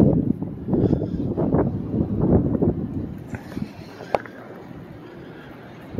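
Gusty wind blowing across a lakeshore, buffeting the microphone in rumbling low bursts for the first few seconds before easing into a quieter, calmer stretch.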